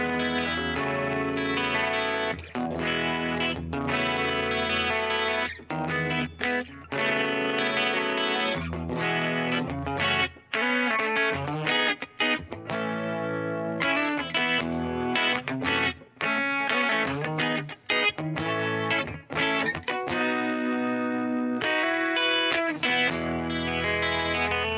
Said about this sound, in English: this is all the three effects and in combination with the Vox amplifier